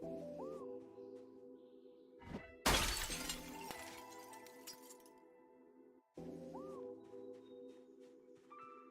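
Window glass shatters in the video game Project Zomboid: one loud, bright crash that rings down into scattered tinkling fragments, set against a quiet droning game ambience with soft tonal background sounds before and after.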